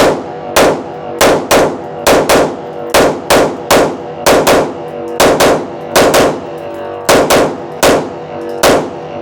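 A Sig Sauer P211 GTO pistol fires its last rounds in an outdoor shooting session, producing about twenty loud, sharp close-range shots in quick strings of two or three with short pauses between them.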